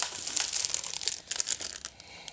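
Packaged Christmas stickers from Dollar Tree being handled, giving close, crisp plastic crinkling in quick bursts that fades toward the end.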